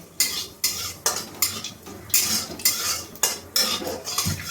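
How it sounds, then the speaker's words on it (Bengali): Whole spices (cardamom, clove, cinnamon and cumin) frying in a wok, with a spoon scraping and stirring in about nine regular strokes over a soft sizzle, close up and without talk. "ফোড়নটা একটু ভালো করে ভেজে নেব"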